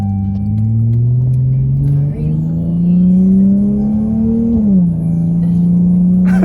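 A single turbo SRT Dodge Charger pulls away with a strong, steady engine drone that climbs in pitch as it revs up, dips briefly near the end, then settles, heard close and loud from inside the car with no talking.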